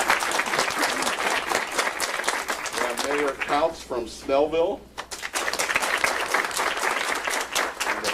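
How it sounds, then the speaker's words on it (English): An audience claps warmly for visiting mayors at the 2014 Toys for Tots kickoff at a Chevrolet dealership, steady applause running through most of the stretch while a speaker announces guests over it. "Let's give her a round of applause."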